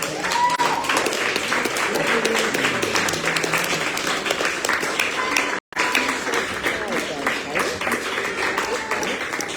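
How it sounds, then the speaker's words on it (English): Sustained applause and clapping from an audience at a poetry reading event, dense and steady with a brief break near the end before it resumes. "give a round of applause to all our poets"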